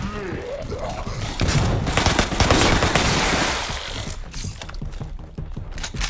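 Rapid bursts of grenade launcher gunfire in the Resident Evil Re:Verse beta crackle densely for several seconds, loud and close, with a voice talking over parts of it.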